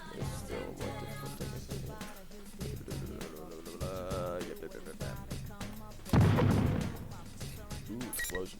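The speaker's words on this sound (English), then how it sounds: "Ooh, explosions." A video game explosion lands as a sudden heavy boom partway through, over busy game sounds and people talking.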